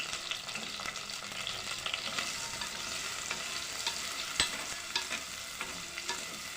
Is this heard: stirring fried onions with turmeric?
yes